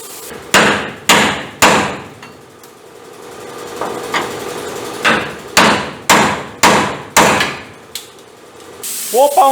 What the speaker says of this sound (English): Whoop on it with a big hammer.